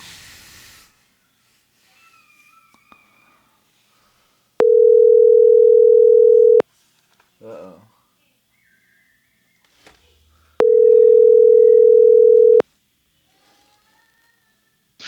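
A telephone line emits a loud, steady dial-type tone twice, each lasting about two seconds with a pause between. Faint clicks and handling noises fill the quiet gaps while a phone call is placed.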